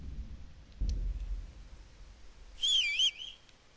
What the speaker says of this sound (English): What am I doing the whistle for?